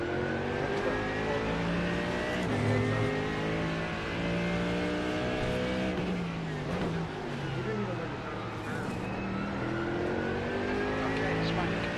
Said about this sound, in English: That's the car approaching.